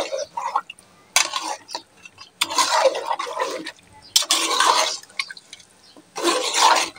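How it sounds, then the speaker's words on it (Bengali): Beef stirred into a cooked-down spice paste in a pot for a spicy Bangladeshi curry, with bursts of scraping, sizzling and clinking from the spoon and pot coming in irregular close strokes separated by short pauses. "মাংসগুলো দেওয়ার পর একটু নেড়ে চেড়ে দিই। কষানো মশলার সাথে মাংসগুলো মিশিয়ে নিই।"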